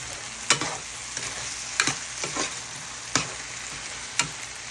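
Guyanese seim and eddo curry stirred in a pot, about six sharp, near scrapes of the spoon at uneven intervals over a steady bubbling simmer, with no talk.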